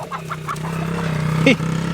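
Farm chickens cluck at feeding time in short separate calls over a low steady hum, with one louder squawk near the end.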